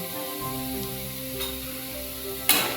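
Onion and peanuts fry in a pan for kande pohe, a steady close sizzle running throughout with a sharper burst of crackle near the end.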